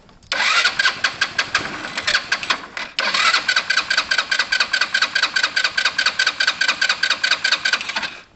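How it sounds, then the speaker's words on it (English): A Tamoretti Retro scooter engine is started warm and then runs at a fast, loud, pulsing idle, its rhythmic putter steady and close with a brief break near the start. "We'll start the engine. It's nice and warm. We'll fire us up"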